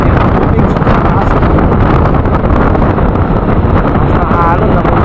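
Loud, constant roaring wind at sea buffeting the microphone aboard a boat near Calapan Pier during a typhoon, with a broad rushing noise and faint voices underneath throughout.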